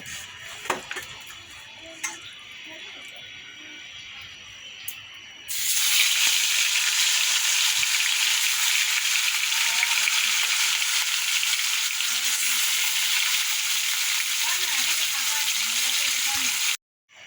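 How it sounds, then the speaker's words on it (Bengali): Fish frying in oil in a wok: after a quiet start with faint clatter, a loud, steady, dense sizzle erupts and continues for about eleven seconds before cutting off abruptly. "এবার কড়াতে তেলও দিয়ে দিয়েছি এবার মাছ ছেড়ে দেবো"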